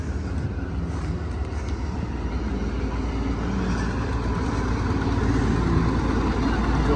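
A tractor engine runs steadily with a rice-cutting attachment in a paddy field, a loud, continuous low rumble that holds level and slightly builds over the stretch, with no voices.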